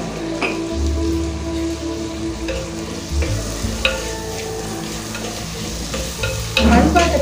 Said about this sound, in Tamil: அப்புறம் தக்காளி பழம் 2 பழம் கட் பண்ணதையும் சேர்த்துக்கோங்க.